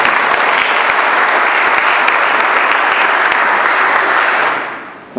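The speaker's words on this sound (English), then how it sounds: "That's another applause." Close, loud applause from an audience at the YMCA Fall River ribbon cutting: continuous, full clapping that fades out just before five seconds.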